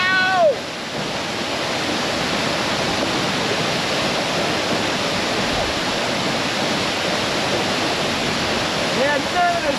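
Cold glacier stream water in Glacier National Park rushes steadily in a dense, even roar, close and constant for the whole stretch, with a brief voice near the start and end.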